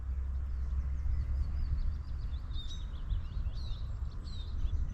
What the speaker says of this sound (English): That's the willow warbler.